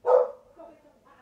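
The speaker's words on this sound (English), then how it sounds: "I'm really sorry about the dog barking in the background." A neighbour's dog barks once, fairly close and loud, then fainter rustling or muffled sounds follow briefly.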